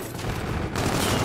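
Gunfire rattles in a Call of Duty: Infinite Warfare Hardpoint match, a loud, continuous burst of shots that dips briefly and then comes back.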